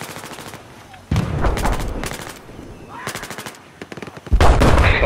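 Rapid automatic gunfire in a video game comes in loud bursts of machine-gun fire separated by short gaps, with a player's voice talking briefly between the volleys.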